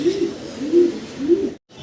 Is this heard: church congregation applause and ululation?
no